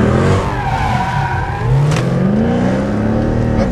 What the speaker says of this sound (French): J'arrive, je freine, première, je tourne, gaz.